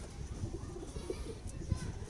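Pigeons coo softly in short low murmurs against a faint background, a few brief calls spread over a couple of seconds.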